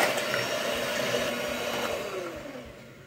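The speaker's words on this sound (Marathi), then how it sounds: "या इलेक्ट्रिकल बीटरने बीट करून घेणार आहोत, व्हिस्क करून घेणार आहोत" Electric beater whisking cream for a three-ingredient mango ice cream, a steady whirring motor drone held close and loud for a few seconds without a break, with no talk over it.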